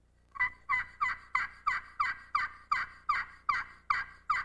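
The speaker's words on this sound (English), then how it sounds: "The aluminum surface coupled with the acrylic pan and sounding board makes this call very high-pitched and very realistic." An aluminum-and-acrylic turkey friction call, worked with a striker on its sounding board, gives about eleven loud, high-pitched yelps in a steady, even rhythm, close and alone.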